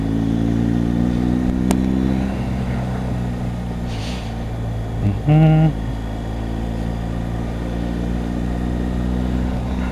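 A motorcycle engine drones steadily and loudly throughout while riding, with a brief higher-pitched tone rising over the constant rumble partway through.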